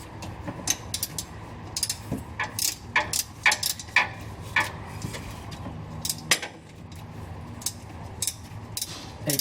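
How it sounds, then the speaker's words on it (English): A 22mm ratcheting wrench tightens a nut during suspension work on a 100 Series Land Cruiser, giving bursts of close, crisp metallic clicking and ticking with irregular pauses and light clanks between strokes. "A 22mm ratcheting wrench makes this much easier."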